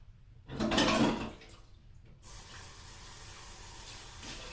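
Water pours into a bowl for peeled potatoes in a home kitchen as a short, loud splash of about a second. A faint steady hiss of running water follows.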